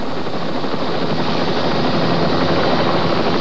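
A loud rescue helicopter drones close by at a waterfall rescue, its rotor and engine roar steady and unbroken throughout.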